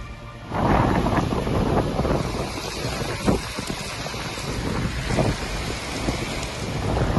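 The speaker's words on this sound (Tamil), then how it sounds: "சூறாவளி காற்றுடன் பெய்த கனமழையால் மரங்கள் மற்றும் மின்கம்பங்கள் சாய்ந்தன." Heavy rain lashes down under strong cyclonic wind in Coimbatore, a loud, constant roaring hiss with gusting surges and no voices.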